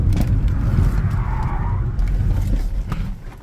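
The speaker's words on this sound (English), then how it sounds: "Let's see just how well she'll kick sideways with a little bit of throttle application" A Kia EV6 GT dual-motor electric car sliding sideways under throttle on worn Yokohama tires, a loud close rumble of road and tire noise with a brief squealing rise in the middle, with no talking.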